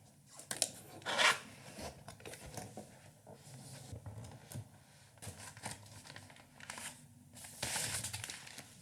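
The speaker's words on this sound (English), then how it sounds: "Today we'll be unboxing the SteelSeries Apex Pro TKL 2023 edition." Packaging for a SteelSeries Apex Pro TKL 2023 keyboard being handled during unboxing, with scattered crinkles, rubbing and brief cutting or tearing noises at close range, irregular and fairly quiet, with no talk.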